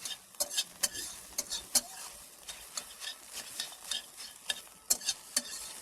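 Eggs fry in a pan and are stirred: a spatula scrapes in quick, irregular strokes over a soft, continuous sizzle, close by and with no talking.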